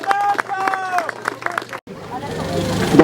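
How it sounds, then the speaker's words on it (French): A man addresses the crowd at the Enduro de Brionne motorcycle event, then the audience breaks into a burst of clapping and cheering. "On les applaudit bien fort."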